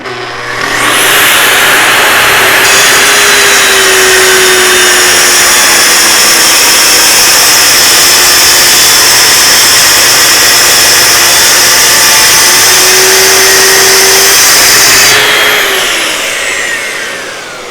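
A track saw cuts through an end table top with a vacuum running, a loud sustained whine that spins up, holds steady for about fourteen seconds, then winds down.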